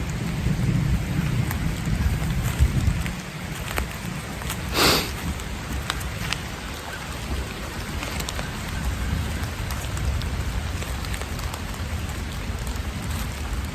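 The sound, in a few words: thunder and rain of a thunderstorm in the woods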